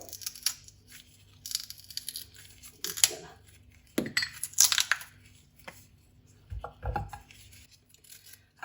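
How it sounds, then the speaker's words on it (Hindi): A knife finely chopping carrots on a board, giving irregular crisp cutting knocks in short bursts with pauses between, fairly close and moderately loud, with no talking. "अब ऐसे बारीक बारीक काट लेने हैं आपने।"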